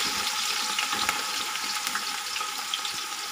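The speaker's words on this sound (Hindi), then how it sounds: "इस तरीके से बारीक कटी हुई प्याज हम डाल देंगे और इसे अच्छे से फ्राई कर लेंगे" More than 1.5 kilograms of finely chopped onions hit smoking-hot oil and fry. A loud, dense, continuous sizzle with crackling pops throughout, close up and with no talking.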